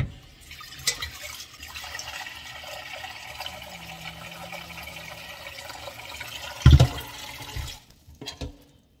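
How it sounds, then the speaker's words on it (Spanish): Water is poured into a pot for cooking spaghetti, making a steady filling and splashing sound at moderate level for several seconds. A louder clunk comes near the end, then the pouring stops and it falls quiet, with no talk. "le echo un poco de agua a esto"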